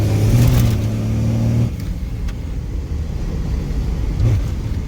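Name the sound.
12-valve diesel dually truck engine revving under boost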